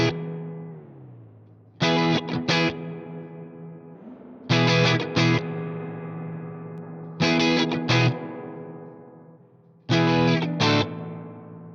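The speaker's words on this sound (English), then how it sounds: "Impulse mode is perfect for when you need hyper-realistic spring reverb." Spring reverb from the ReCoil plugin in impulse mode, with bright distorted bursts struck four times at regular intervals, each followed by a long metallic, echoing decay that rings out before the next hit.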